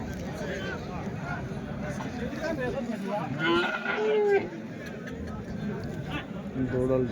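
Calves and cattle moo at a Sunday cattle market in Chintamani, with a drawn-out low moo standing out over steady crowd chatter and nearby talking.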